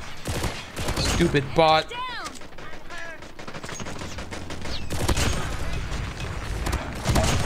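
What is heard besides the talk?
gunfire in Call of Duty Mobile video game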